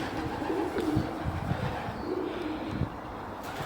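Pigeons coo repeatedly inside an abandoned woollen mill where old machinery remains, the soft low calls coming in short bursts over a steady hollow room noise, fairly close and moderate in level.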